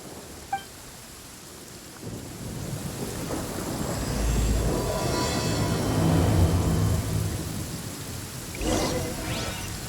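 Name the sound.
rain and thunder in video game Genshin Impact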